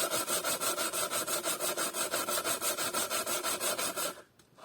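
A plane iron is rubbed back and forth on sandpaper in a steady, even rhythm of about six strokes per second, a close gritty rasp that continues for several seconds and then stops, with no talking.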